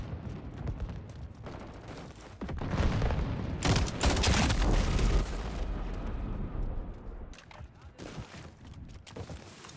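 Frag grenade blasts in a Call of Duty: Modern Warfare 4 multiplayer match, a loud booming burst rolling into sustained gunfire and rumble near the middle, with a player's voice heard around the action.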